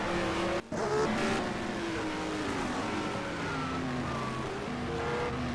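A McLaren Can-Am race car at St-Jovite in 1971, its engine screaming at high revs with rising and falling pitch through gear changes, loud and continuous amid other cars on the track.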